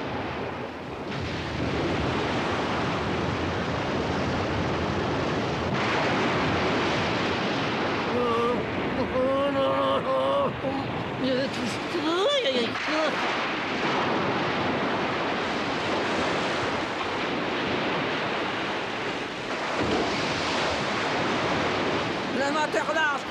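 A storm at sea with howling wind and crashing waves, a dense continuous roar that stays loud throughout, with a brief whistling gust in the middle.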